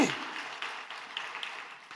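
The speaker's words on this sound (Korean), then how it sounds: "우리 하나님께 영광의 박수로 찬양합시다" A church congregation claps in praise, a fairly faint, diffuse patter of applause filling a large room, steady and somewhat distant.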